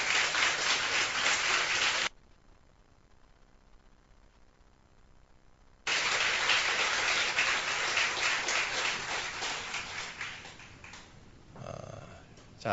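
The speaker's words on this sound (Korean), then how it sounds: "우리 수고하는 우리 친구들에게 박수 한번 보내주세요" A church congregation claps, a dense burst that drops out briefly, then resumes loud and steady before tapering near the end.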